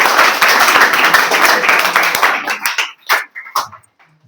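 A class breaks into applause during a Class 12 English lesson, dense clapping for about two and a half seconds that then thins into a few scattered final claps and falls silent.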